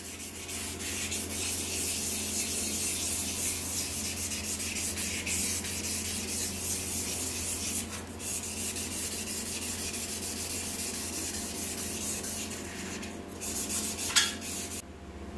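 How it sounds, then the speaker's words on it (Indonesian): Fine 1000-grit sandpaper rubs steadily over a cured carbon fiber epoxy surface, making a continuous close scratchy hiss with slight rhythmic strokes and a few brief pauses and knocks, without talk. "Setelah amplas 400, lanjut ke amplas grade 1000 ya."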